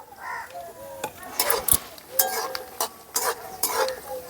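Raisins and nuts sizzle in ghee over a low gas flame, with repeated close spoon strokes scraping the pan in an uneven rhythm and a faint voice briefly in the background.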